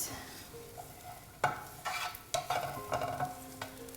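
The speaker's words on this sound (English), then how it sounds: "Get some olive oil in there. So first we add the onions." Onions frying in olive oil in a pan over medium heat, with a steady hiss broken by several sharp bursts of stirring and sizzling, close and moderately loud, with no talking.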